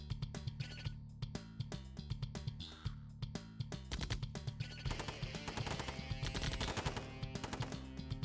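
Rapid bursts of small-arms and machine-gun fire in the 1995 Command & Conquer game, in dense overlapping volleys and crackling rattles that run continuously and loudly, with no voices.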